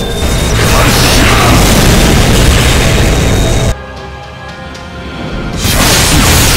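A loud, sustained booming cannon blast in a video game, with a roaring, crashing wash that drops out abruptly for a moment, then surges back in.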